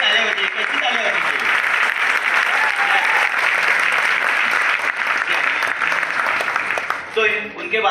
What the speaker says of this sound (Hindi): तो एक दूसरे के लिए तालियां बजाइए।